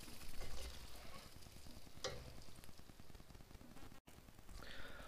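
A vegetarian pasta mixture stirred in a hot pan over reduced heat, giving a steady soft sizzle with scraping strokes of the spoon, fairly quiet and close.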